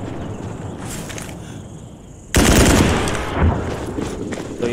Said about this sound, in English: that means that the mortar will keep on firing while the gun is still alive